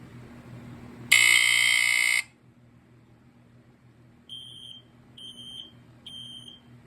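A vintage FireX FXC-1 smoke alarm's AC buzzer blares loud and harsh for about a second, then falls silent before a quieter series of three short electronic beeps follows.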